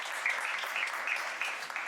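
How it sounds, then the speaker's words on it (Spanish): An audience applauds a panel speaker at a diversity-in-organizations event, a brief burst of dense, steady clapping with no talking over it. "Así que un aplauso para él."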